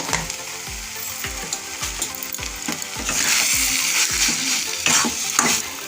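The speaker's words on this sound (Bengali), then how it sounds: "এইভাবে আমাকে কষে নিতে হবে 5-7 মিনিট, যতক্ষণ না এটা ভালোভাবে টাইট হচ্ছে" Spice mix for banana flower chops sautéing in a pan: dense sizzling crackle paired with a steady rhythm of utensil scrapes and knocks, the frying hiss swelling brighter in the second half.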